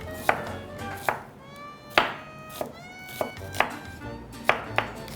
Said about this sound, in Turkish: Piyazlık yani böyle ortadan kestikten sonra yarım daireler halinde ince ince kıyıyorum